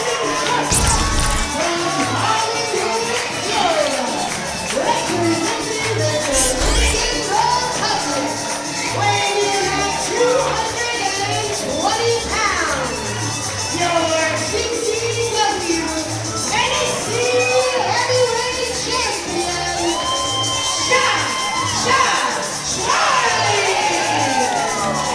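A wrestling show crowd cheers and shouts continuously, a dense, loud roar of many voices with whoops rising throughout.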